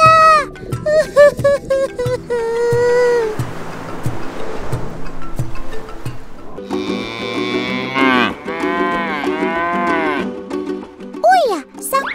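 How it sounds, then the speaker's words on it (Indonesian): A herd of cattle moos repeatedly, with long, loud, drawn-out calls from several animals overlapping, set against a steady rushing background noise. "Lihat nih, kawanan sapi ini sampai harus makan sampah."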